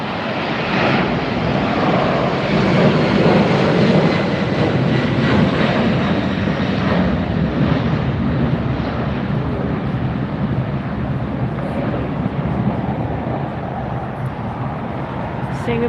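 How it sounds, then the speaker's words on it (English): A Korean Air Airbus A380 arriving at Los Angeles International Airport, its engines giving a loud, steady broadband roar that holds for the whole stretch. A voice is heard talking over it. "There's the Korean Air A380 that just came in."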